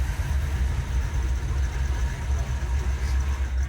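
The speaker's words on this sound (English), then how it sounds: "That's a smooth sounding engine right there." A classic Ford Thunderbird engine idles steadily and close by, a smooth, even low rumble with no revving or speech.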